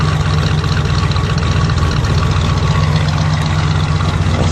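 A 1974 Pontiac Grand Am's V8 engine idles steadily with a deep, rumbling low-end throb, loud and close, running continuously without any change in pace.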